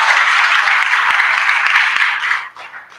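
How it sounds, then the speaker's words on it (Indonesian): Church congregation applauding at a sermon in a Jakarta narcotics prison, a dense wash of clapping that holds steady and then fades out near the end. "Berikan tepuk tangan."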